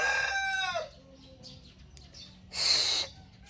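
A rooster crows loudly at close range, its long call trailing off. After a pause, a second harsh, noisy burst comes from the farmyard.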